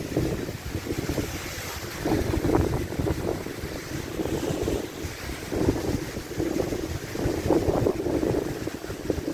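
Wind gusting across a microphone outdoors in Savoie, with water rushing nearby, a loud, steady buffeting roar with surging swells and no clear voices.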